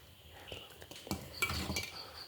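Rice flour and ripe jackfruit batter being stirred together in a pot, quiet scraping and a few metallic clinks of a spoon against the vessel, close and faint.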